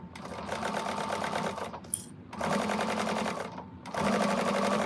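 A sewing machine stitches bag straps in rapid steady bursts, running for about two seconds, pausing briefly, then running again twice, close and fairly loud.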